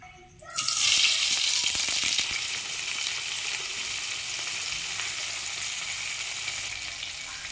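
Onions and green chillies hit hot oil for a curry and fry with a loud, steady sizzle that bursts in after a brief quiet start and holds evenly throughout, with no talk over it.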